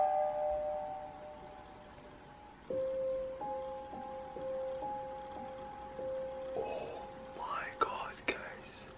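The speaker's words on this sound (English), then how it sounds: "My doorbell just rang when I was making the freaking intro" A quiet electronic doorbell chimes through several sustained stepping notes, with soft voices and rustling near the end.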